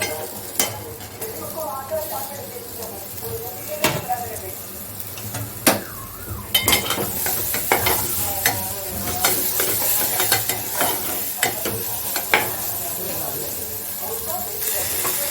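Chopped onion goes into a hot pan and fries, making a steady sizzle and hiss with scattered stirring clinks and scrapes close by, while someone talks over it.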